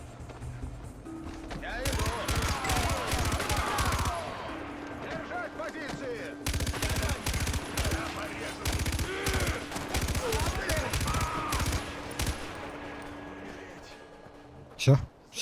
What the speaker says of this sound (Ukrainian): У мене кулемет що настільки мощний, що я прям тяжеловеси цього можу вибити